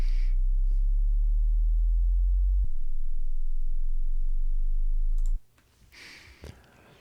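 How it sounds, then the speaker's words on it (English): A steady low sine tone holds loud and constant for about five seconds, its level shifting slightly midway as a compressor clamps down, then cuts off abruptly, leaving faint room noise and a couple of soft clicks. "that is causing the compression to kick in on the sine wave"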